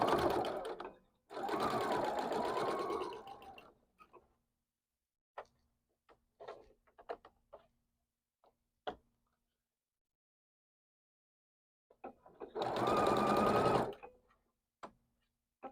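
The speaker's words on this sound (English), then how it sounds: "I'm going to sew this last side." A sewing machine stitches the last side of a quilt block in two bursts of steady whirring, close and fairly quiet, with scattered light clicks and handling noises between them.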